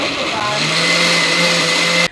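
A blender whirs steadily as it blends a drink of Smirnoff vodka and grapes, a loud continuous motor drone that runs for about two seconds and then cuts off abruptly.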